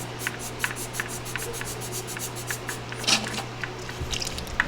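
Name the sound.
hand pump on coral dip drip valve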